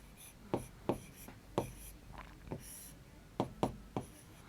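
Chalk or marker strokes on a board make a string of short, faint taps and scratches in an irregular rhythm.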